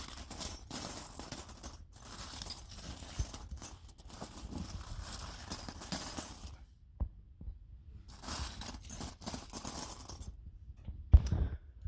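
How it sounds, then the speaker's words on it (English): Silver coins clink and jingle against each other in bursts of bright, close clangs, with a short quiet pause partway through before more clinking. "Silver even sounds different when you clang it together."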